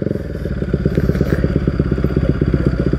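A Bajaj Pulsar NS200 fitted with an Akrapovic aftermarket exhaust runs close and loud, its engine pulsing in a rapid, even, throbbing beat with no one speaking.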